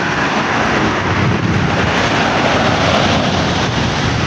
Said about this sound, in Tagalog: So ito yung dagat.